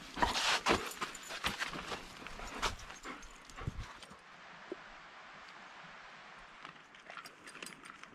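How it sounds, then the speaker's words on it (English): A German Shepherd makes soft whimpering and panting sounds close by, in a spring camping setting. Faint scuffing accompanies it, louder early on and quieter later, and no one speaks. "Oh, what a good doggie."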